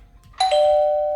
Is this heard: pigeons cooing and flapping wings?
no